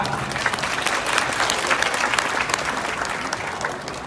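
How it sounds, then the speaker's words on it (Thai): Crowd applause at a buffalo judging contest in Surin province, Thailand, a steady dense wash of clapping that holds at an even level for the whole stretch, with no voices standing out. "ขอเสียงปรบมือดังๆครับ"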